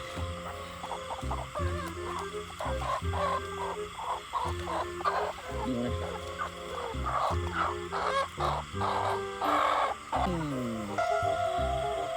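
Chickens cluck and squawk close by in a lively, irregular run of calls, with people's voices mixed in now and then.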